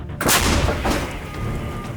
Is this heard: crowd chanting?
no